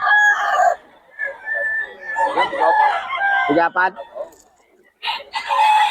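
Chickens cluck and roosters crow repeatedly at a livestock market in Bocaue, loud and close, with a long crow in the middle and a voice speaking between the calls.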